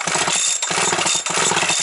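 A Husqvarna 365 chainsaw engine runs loud and close. Its rough, buzzing two-stroke roar fills the whole moment, with one brief dip partway through.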